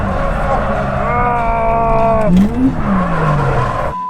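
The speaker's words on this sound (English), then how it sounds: "I can't even skid right" Drift car on a drift day skidding, its engine note rising and falling through a long slide with a swooping tire squeal near the middle, heard close and loud with music and speech running underneath.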